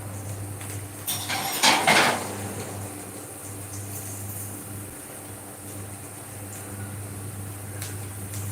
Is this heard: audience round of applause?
no